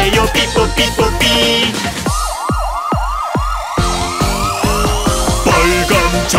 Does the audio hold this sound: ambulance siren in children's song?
yes